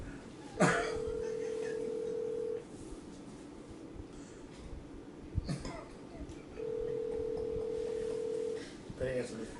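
Outgoing phone call ringback tone, two steady electronic tones of about two seconds each separated by a pause, with clicks and faint background voices around them.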